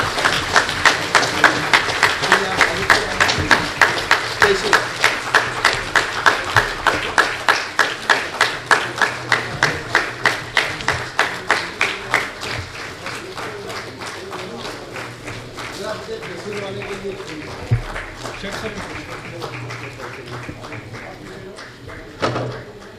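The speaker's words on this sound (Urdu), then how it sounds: "آپ کی تالیاں بند نہیں ہونا چاہیے، زوردار تالیوں کے درمیان۔" A crowd at a felicitation programme honouring Dr Fauzia Khan and academic scholars claps in a steady rhythmic beat, loud at first and gradually thinning and fading.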